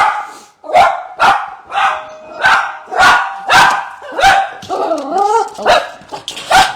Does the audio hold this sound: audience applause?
no